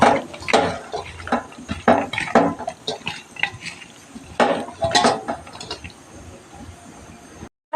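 Boal fish pieces are rubbed with turmeric and salt in a bowl, producing irregular wet squelches, clinks and scrapes against the dish in uneven bursts, fairly close and clear with no talk.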